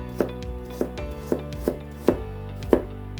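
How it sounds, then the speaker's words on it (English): A knife slices a carrot into strips on a board, six crisp, evenly spaced cuts with short pauses between them, close up and with no talking. "Peel off a carrot, wash it, and then slice it."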